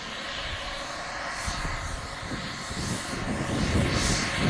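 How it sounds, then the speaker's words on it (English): A Fei Bao F-5E Tiger II model jet taxis back on gusty ground, its turbine engine whining steadily at moderate, fairly constant loudness, swelling slightly toward the end over low, rumbling wind noise. "Major Woody taxis back the F5E."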